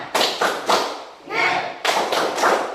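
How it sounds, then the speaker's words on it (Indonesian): A school class performs a rhythmic spirit-clap cheer, loud sharp clap bursts close by in a quick pattern, broken by a short pause with voices. "coba kita akan melakukan tepuk semangat"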